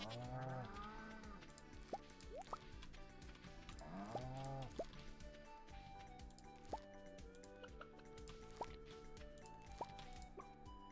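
Cows mooing on the farm in the video game Stardew Valley, short low calls rising over busy background music and dripping game sound effects.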